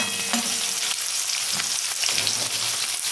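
Chopped onions and garlic frying in a pan, a dense, loud, hissing sizzle that runs unbroken for a few seconds with faint stirring knocks underneath and no one speaking.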